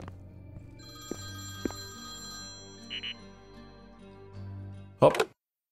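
A telephone rings inside the video game Priest Simulator, with sustained electronic ringing tones over a low background hum, brief ticks, and a loud burst near the end.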